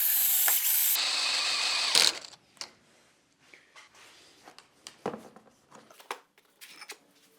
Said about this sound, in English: I'm going to place 1 screw on this end so it can act as a pivot